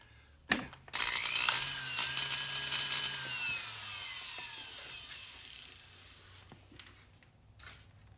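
Foredom flex-shaft rotary tool on a foot control spinning a slow-speed sanding mandrel, a steady high whine that rises after a sharp click and holds for several seconds before tapering off, with no talking.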